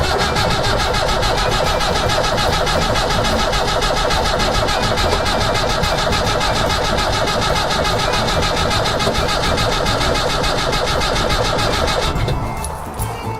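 An old Land Rover engine is cranked over steadily and continuously without catching, a loud, dense churning that runs alone for about twelve seconds before faltering and dropping away at the end.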